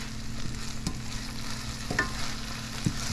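Saltfish stew is stirred in a pot over a fire, with soft scraping strokes of the spoon a few times over a low, steady sizzle and a faint background hum.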